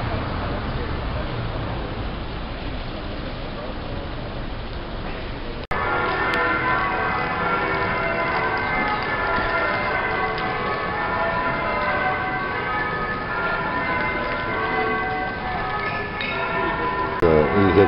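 Church bells keep ringing a little after 10:30 in a German town, steady tolling with layered tones that grow clearer and louder partway through, over faint street traffic and no speech.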